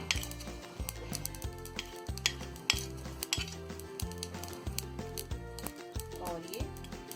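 Mustard seeds and fennel hit hot oil in a pan while cooking dhokla, a soft sizzle and crackle under steady low cooking clatter and utensil clinks, with a person talking throughout.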